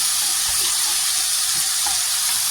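Ghevda beans with turmeric powder sizzling steadily in hot frying oil, a dense, close, continuous crackle with no voices.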